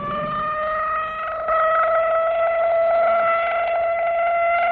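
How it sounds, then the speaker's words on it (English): A steady wailing air-raid warning siren holds a sustained tone with layered harmonics, loud and continuous throughout, rising slightly in level partway through. "But tomorrow, this siren may mean the real thing"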